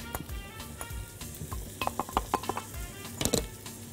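Onions and peppers sizzle while frying in a pan for a mahshi stuffing mix. A spoon stirs and scrapes against the pan in clustered clinks over the steady close frying hiss, and no voices are heard.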